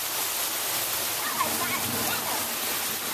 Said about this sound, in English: It's pouring down now.